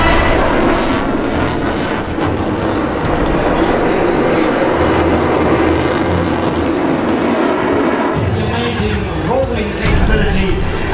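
XA-41 Extreme Air aerobatic plane performing at a seaside airshow, a steady loud engine drone with shifting pitch as it maneuvers, heard outdoors under a commentator's voice over loudspeakers.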